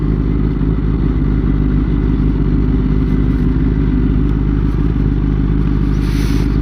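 A Kawasaki ZX10-R sport motorcycle rolls over gravel, its engine a steady loud drone with a dense low rumble and constant road and wind noise throughout.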